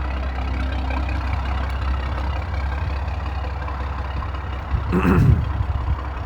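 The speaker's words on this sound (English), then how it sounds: "Let's see what the idle sounds like. Let's see if it's super choppy." Catless big-turbo BMW M340i engine idling, a steady low rumble throughout with a brief louder swell near the end, no talk.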